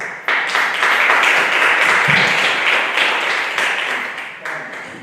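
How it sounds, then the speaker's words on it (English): A small audience applauds steadily before a talk, a full wash of clapping hands that carries through with no speech over it. "let's just give him a big round of applause."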